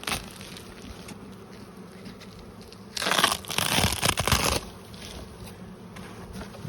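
Honeybees at a hive hum as a steady low drone, with a louder, closer burst of buzzing and rustling for about a second and a half midway before settling back.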